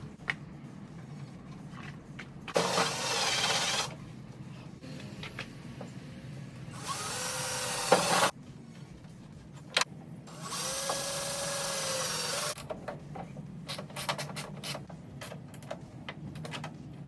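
Power drill driving bolts while installing a blade spoiler on a 1993–2002 Camaro, heard in several separate bursts of whirring with quiet handling clicks and pauses between them.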